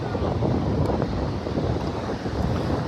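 Ocean surf and wind at Daytona Beach make a loud, continuous wash of breaking waves, with heavy wind buffeting the microphone up close and no voices.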